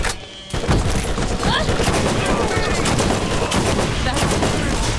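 A burst weapon in Borderlands fires a dense, continuous stream of close, loud shots in a steady rapid rhythm that runs almost without gaps after a brief quiet start.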